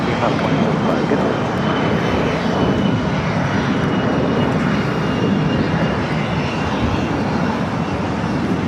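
CRJ 200 regional jet at LAX, its engine roaring as a steady, loud, broadband rush that holds without a break, with faint voices underneath.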